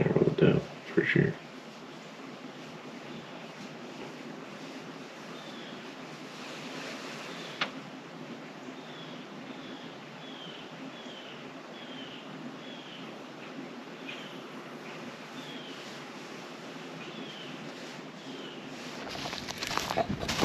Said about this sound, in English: It may be a little windy